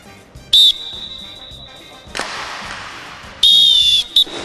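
Sharp, loud referee-style whistle blown to start a throw in a Turkish TV game show, a short shrill blast, then a longer double blast later, with a burst of crowd noise in between.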